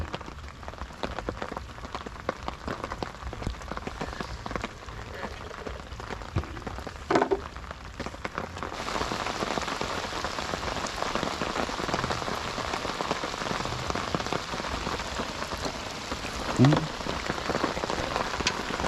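Steady rain pours down, hissing evenly on a surface while fishing outdoors, growing heavier partway through, with a few faint knocks and rustles in the background.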